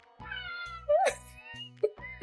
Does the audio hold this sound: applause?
no